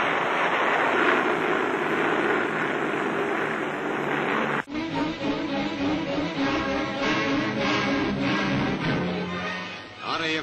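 Heavy droning of B-24 Liberator bomber engines in flight, a loud continuous roar that cuts abruptly partway through to a steadier, slightly different engine drone with rumbling low end.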